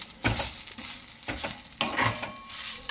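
Ingredients for vatha kulambu dry-roasting in a pan on a low flame, three distinct scraping stirs with a soft sizzle between them, close and moderately loud.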